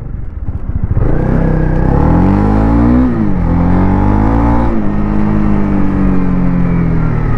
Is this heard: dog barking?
no